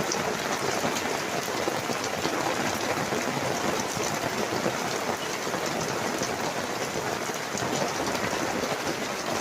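Heavy rain pours steadily onto a garden gazebo in a wild garden in Stafford, a dense, continuous hiss and patter, close and loud throughout.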